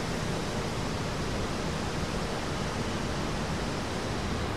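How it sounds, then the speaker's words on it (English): Steady broadband roar from air-conditioning compressors and exhaust fans outdoors, recorded without noise cancellation, a constant loud hiss-like hum with no breaks and no talking. "We have a lot of noise out here with the aircon compressors and the exhaust fans."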